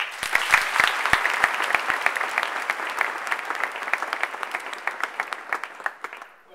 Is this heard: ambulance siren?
no